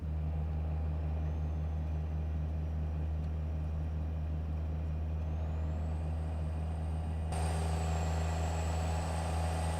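A heavy truck engine drones steadily and close in American Truck Simulator, a deep constant hum with a faint whine climbing slightly partway through, alone without talk.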